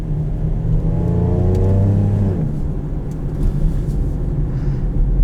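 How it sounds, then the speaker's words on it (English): 2014 Lincoln MKX engine with an exhaust leak: a loud, close, deep rumble as the engine revs up and settles, with a raspy droning tone under the steady road noise. "Oh, I love exhaust leaks."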